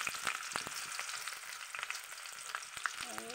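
Onions sizzle and crackle in a hot frying pan, a steady, dense spatter of popping with scattered sharper snaps throughout, fairly close and with no voices.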